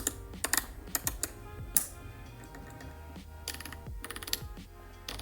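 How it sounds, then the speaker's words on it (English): Sharp detent clicks as the shutter speed dial on a Nikon Zf camera is rotated, close and crisp, coming in uneven clusters of rapid ticks with brief pauses between turns. "the shutter speeds move freely."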